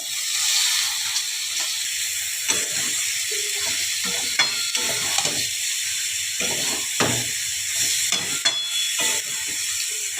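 Taro stolons (kochur loti) frying in hot oil in a pan, a loud steady hissing sizzle up close with a few sharp clinks and stirring scrapes, without talk.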